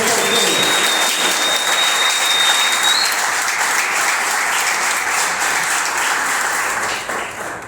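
A church congregation applauds loudly and continuously throughout, dense clapping from a crowd with a faint voice underneath, tapering slightly at the end.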